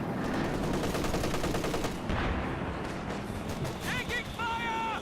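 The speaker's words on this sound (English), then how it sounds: "It switches targets to the MG-34." An MG-34 machine gun fires in rapid bursts during a video game match, loud and dense in the first seconds, followed by other battle noise and short electronic chirps.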